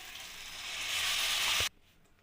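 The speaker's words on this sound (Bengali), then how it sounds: "মিক্সি জার ধোয়া জলটা আমি দিয়ে দেবো এর মধ্যে।" Water from a rinsed mixer jar is poured into a hot pan of cooking flat beans, giving a loud, close sizzling hiss that swells steadily for under two seconds, then cuts off abruptly into quiet.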